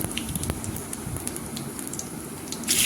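Whole cumin seeds tempering in hot oil for a vegetarian banana-flower curry with chickpeas, a soft continuous crackle and spatter with scattered small pops, close and fairly quiet.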